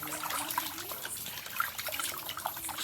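Water trickles and sloshes steadily while fish are rinsed in salted water in a bowl, a soft continuous splashing with faint drips and no voices.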